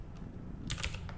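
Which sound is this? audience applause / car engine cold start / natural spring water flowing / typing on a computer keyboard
typing on a computer keyboard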